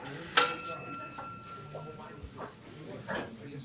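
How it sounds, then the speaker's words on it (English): A single bright bell strike rings out early and its tone decays over about a second, with faint indistinct chatter around it. "Just heard a bell. What was that bell?"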